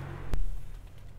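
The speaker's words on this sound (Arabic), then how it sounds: "سكر الباب واسمع العزل" A 2019 Lexus ES350 door shuts with a single muffled, low thud heard from inside the cabin, followed by a quiet, hushed interior.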